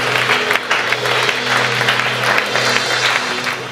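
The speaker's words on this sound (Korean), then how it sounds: "우리 하나님께 박수 한번 돌리십시다" Church congregation at a Thursday worship gathering breaking into a dense, steady round of applause, with a low hum running beneath throughout.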